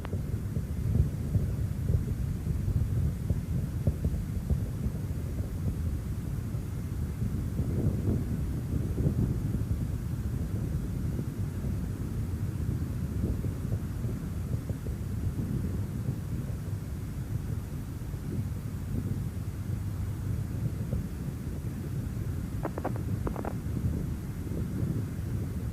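Space Shuttle Endeavour's liquid-fueled main engines at full throttle during the STS-89 launch, a steady distant low rumbling roar that stays continuous and unbroken throughout, with no talk over it.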